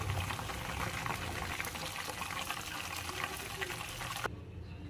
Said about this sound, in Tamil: இந்த பதத்தில் நம்ம வந்து கோழி எல்லாமே பொறிச்சு எடுத்துக்கலாம்